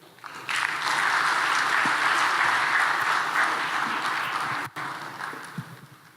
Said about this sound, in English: A round of applause for Mr. Valter Adao.